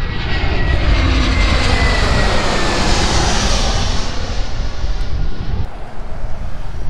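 A fixed-wing aircraft roars at an airport, its loud, steady engine drone filling the whole stretch with wind buffeting the microphone and a slight rise and fade in pitch.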